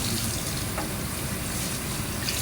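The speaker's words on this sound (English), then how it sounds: "Put some water in my cup." Water pours steadily into a cup during a dental care scenario, a continuous close rushing splash with no talk over it.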